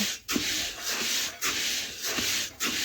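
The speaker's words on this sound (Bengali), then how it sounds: "এইভাবে নাড়তে নাড়তে আমি কিছুক্ষণ চালটা ভালোভাবে গরম করে নেব" Rice being stirred in a hot pan for puffed rice, giving a steady dry scraping and rubbing sound in repeated strokes, close and fairly loud, with no talk.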